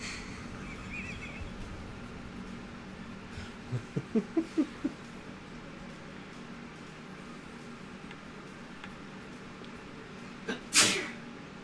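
A single sharp sneeze bursts out near the end, preceded by a short run of soft rhythmic thuds over a quiet room background.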